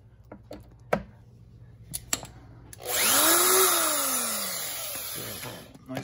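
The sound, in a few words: power drill running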